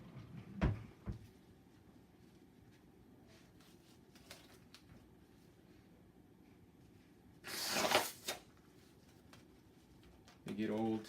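A drawer pulled open during cleaning of a Form 2 resin printer tray, heard as one loud, close scraping slide lasting under a second, followed by a couple of quieter knocks and rustles amid faint room sounds.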